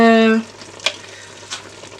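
Blended seasoning tipped onto oxtails sizzling in a pan, a steady crackling fry that follows a brief humming tone, with a couple of soft taps.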